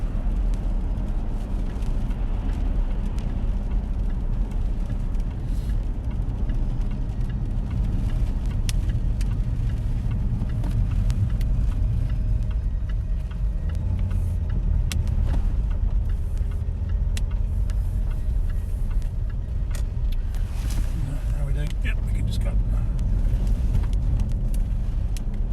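A Jaguar XK 5.0 Portfolio coupe accelerates on the road, heard from inside as a steady low engine rumble with road noise and faint rattles, rising toward the end.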